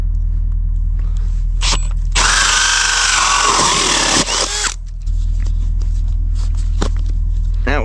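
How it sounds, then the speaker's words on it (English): A power drill bores holes into the side of a corrugated drainage tile pipe, giving a loud grinding whine of about two and a half seconds over a steady engine hum. "When you're drilling these holes, you always want to be as far into the side of the pipe as possible."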